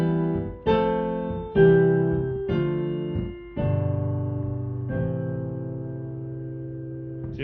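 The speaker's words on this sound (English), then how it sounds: "What if we change the last 2 chords to a deceptive cadence?" Sustained, tonal chords ring out one after another in a slow progression, about five changes, ending on a deceptive cadence that holds and slowly fades, with no speech.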